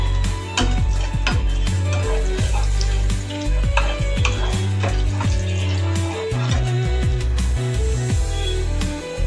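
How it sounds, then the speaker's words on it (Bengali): Bay leaves and whole garam masala temper in ghee and oil in a pan, giving a busy, continuous sizzle. Sharp scraping and clinking of a utensil against the pan cuts in repeatedly, close and fairly loud throughout, with no one talking. "ওই তেলেতে 1 চামচে ভালো ঘি দিলাম, 2টো তেজপাতা আর গোটা গরম মশলা ফোড়ন দিলাম।"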